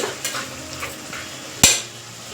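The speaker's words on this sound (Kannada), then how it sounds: "ಇವಾಗ ನಾನು ರುಬ್ಬಿಟ್ಕೊಂಡಿದ್ದಂಥ ಮಸಾಲೆನ ಇದಕ್ಕೆ ಆ್ಯಡ್ ಮಾಡ್ತೀನಿ" Ground masala paste is added to chicken chops cooking in a pan and stirred, with soft scraping and sizzling and one sharp clank of utensil on pan, close and moderate in volume.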